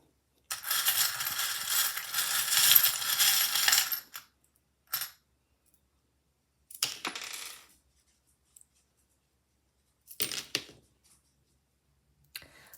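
Small hard charms and cards clatter and scatter across a tabletop in a long burst, followed by several shorter rattling spills with quiet gaps between.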